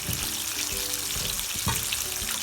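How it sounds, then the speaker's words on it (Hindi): Chicken zinger pieces deep frying in oil in a kadai give a steady, moderately quiet sizzle and bubbling hiss, with occasional soft clinks and stirring sounds on top. "ये जब तक फ्राई हो रहा है"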